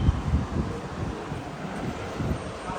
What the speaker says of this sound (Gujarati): મસ્ત પવન કા મજા આવે